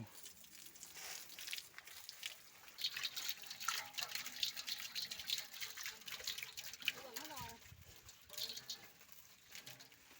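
Tap water runs and splashes steadily while a black pig is bathed and scrubbed, with someone talking and some squealing-like voice sounds over the flow.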